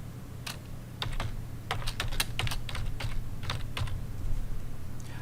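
Rapid keyboard typing on a computer keyboard, a short burst of distinct clicking keystrokes in quick irregular succession over a low steady hum, close and fairly quiet.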